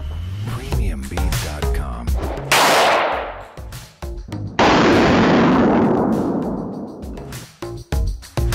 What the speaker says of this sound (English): next up is the Sig Sauer 1911 in 45